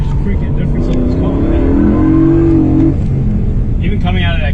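Car engine in sports mode with a Pedal Commander PC10-BT throttle controller, a close rising rev with a tonal whine that swells and fades, under steady road and cabin noise with a voice in the cabin.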